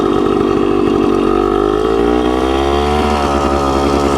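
Suzuki TC-90 motorcycle pulling away in first gear, a loud, close two-stroke engine buzz rising steadily in pitch as the clutch is feathered, with no talking.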